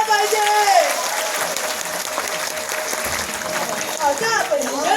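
Audience applause after a dance performance at a school annual day function, a steady, dense wash of clapping throughout, with voices and a brief whistle-like sound rising over it near the end.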